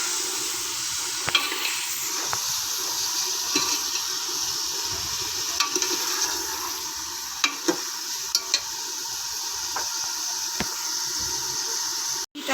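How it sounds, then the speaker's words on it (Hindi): Mutton frying with garlic and onion in a pan gives a steady, close hiss of sizzling, with occasional sharp clinks and scrapes of a spoon being stirred through. "साथ साथ लहसुन और प्याज भी हमारा फ्राई हो रहा है और साथ गोश्त की बुनाई हो रही है।"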